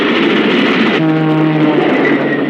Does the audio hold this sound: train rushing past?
yes